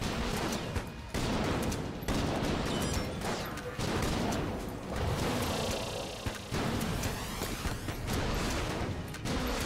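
Explosions from the Stinger gun in the video game Enter the Gungeon sound as dense, rapid bursts of blasts and gunfire, loud and continuous with brief gaps.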